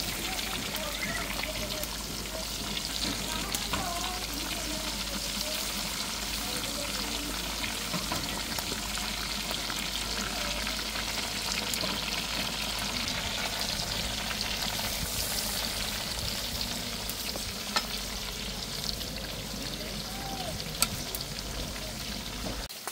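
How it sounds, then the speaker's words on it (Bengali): Catla fish head frying in oil, a continuous crackling sizzle heard throughout, with voices talking faintly in the background during cooking. "কাতল মাছের মাথাটা এখন ভাজা হচ্ছে"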